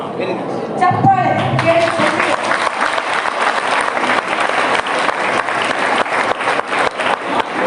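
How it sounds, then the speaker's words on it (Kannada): Dense, steady applause from an audience at a PU college student event during a speech and question-and-answer session, filling the whole stretch loudly, with a voice briefly audible at the start. "ಚಪ್ಪಾಳೆ"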